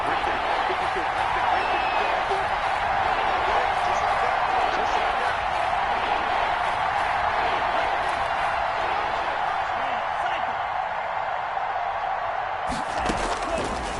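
Stadium crowd roaring steadily in Madden 21 during a Packers game, a loud continuous wash of cheering that swells on a big third down and cuts off near the end, with commentary voices over it.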